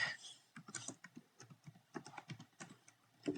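Fingers tap out a short burst on a computer keyboard while entering a search in a search bar, irregular clustered keystrokes, close and fairly crisp, with no talking.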